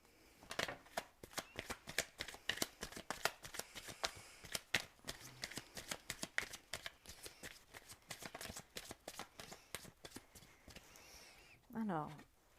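Oracle cards shuffled by hand for a card reading, a long run of quick crisp riffling flicks in an uneven rhythm, close and fairly quiet, with a brief voice near the end.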